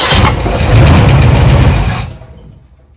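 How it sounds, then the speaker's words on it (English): A 1964 Ford Galaxie engine cranks and catches, running loud and rough for about two seconds before cutting off abruptly into near silence. "It's starting in every gear."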